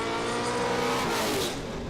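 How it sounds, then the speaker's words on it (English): At a hill-climb race, a race car engine bounces off its rev limiter, giving a loud, continuous, stuttering roar that holds steady for about two seconds. "bouncing off the rev limiter."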